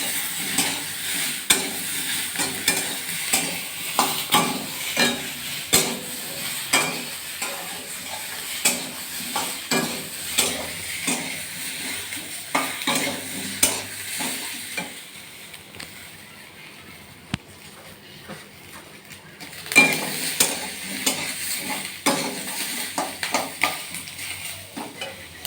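Fish pieces fry for a fish curry in a pan, with a steady sizzle under repeated scraping stirs of a spatula against the metal, close and clear, the stirring pausing briefly midway before resuming.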